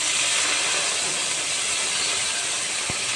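Neem leaves fry in hot oil alongside already-fried eggplant, giving a steady, loud, broadband sizzle that never lets up, broken only by one brief knock near the end.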